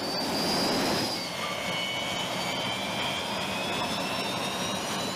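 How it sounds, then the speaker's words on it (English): A jet plane is launched by steam catapult from an aircraft carrier flight deck: a loud, steady engine roar with a high whine. The roar holds near and constant, and the pitch shifts slightly as the plane accelerates away. "the correct pressure steam is used to launch the plane clear of the flight deck at the appropriate takeoff speed"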